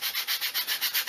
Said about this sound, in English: I did go around with some 320 grit and do a little sanding.